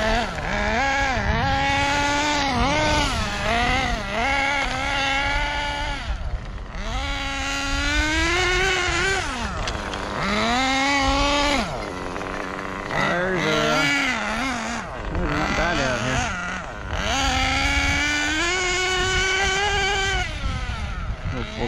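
A Losi 8ight Nitro RTR RC car's small nitro engine runs in a sustained buzzing drone, pitch wavering up and down with light throttle blips, close and loud, with someone talking over it at times.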